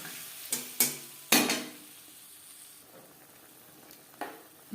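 Ground tomato, ginger and chilli paste hitting a hot pan for a cabbage dish, with a few sharp bursts of sizzle and spatula scrapes followed by a quieter low frying hiss.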